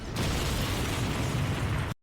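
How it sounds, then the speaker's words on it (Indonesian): A car explodes in a film scene, a loud dense roaring blast that sustains for about two seconds before cutting abruptly to silence. "Ledakan itu melempar Hyun Jae ke udara."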